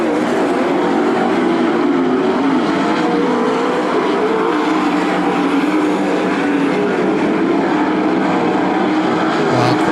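Sprint cars roar around a dirt track at Attica Raceway Park during a heat race, a dense, loud continuous engine drone with shifting pitch from several cars running together.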